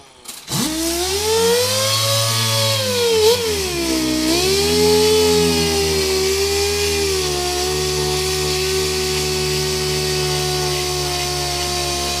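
A power sander spins up and runs in a shop with a steady, close whirring drone that wavers slightly in pitch before settling.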